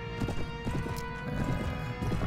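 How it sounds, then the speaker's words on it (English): A horse's hooves clip-clop at a steady walk in the Mount & Blade video game as it rides into a village. The hoofbeats sound close and even, with a faint whinny. "Ride in on my little horse."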